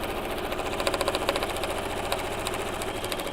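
A sewing machine stitches quilt block seams, its needle chattering in a fast, steady mechanical rhythm at close range, moderately loud and uninterrupted by talk.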